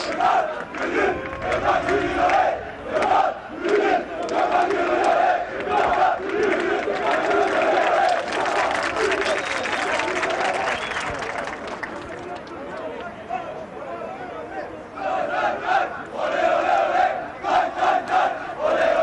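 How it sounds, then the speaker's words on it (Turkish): A large crowd of Fenerbahçe football fans chants loudly and continuously in unison, a dense roar of voices that swells and dips, sustained throughout. "futbolculara tek tek yapılan tezahüratlar devam ediyor"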